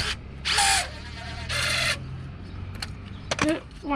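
An impact gun tightening a brake caliper pin on a 2005 Renault Espace, two short loud whirring bursts close by, followed by light clinks of tools.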